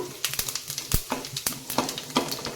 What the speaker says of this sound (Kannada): ಇದೆಲ್ಲವನ್ನು ಇದಕ್ಕೆ ಹಾಕ್ತೇನೆ. ನೋಡಿ, ಸ್ವಲ್ಪ ಫ್ರೈ ಆಗಲಿ.